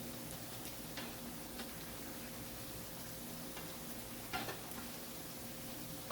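Pakoras fry in warm oil with a steady, even hiss and crackle, faint and continuous, with occasional light ticks of handling and no speech.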